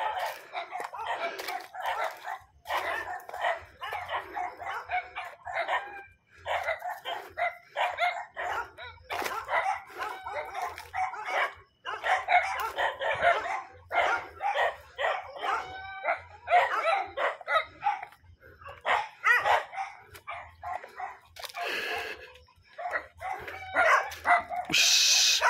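A dog near a small hut barks loudly and repeatedly in irregular bursts throughout, close by, with occasional background voices.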